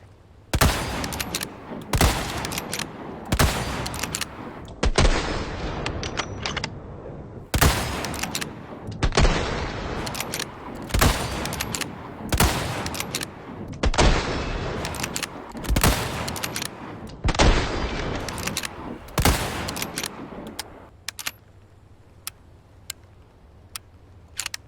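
SRM 1903 bolt-action rifle shots in Resident Evil 4 Remake, a long series of loud, sharp single cracks spaced a second or two apart with short decaying tails, ending in a quieter stretch of ambient hum.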